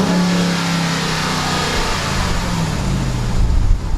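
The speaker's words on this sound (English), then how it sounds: "I love the sound of superchargers" A supercharged RAM 1500 TRX truck engine revs loudly nearby, a deep, continuous roar with a rising supercharger whine that swells toward the end.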